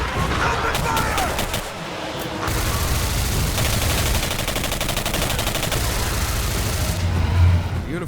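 Dense assault rifle fire in the shooter game Singularity, loud continuous bursts and rattling volleys layered over a busy combat din, close and sustained.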